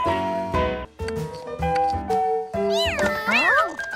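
A cartoon kitten meows in several rising and falling cries near the end, loud and close, after a stretch of other voiced sounds.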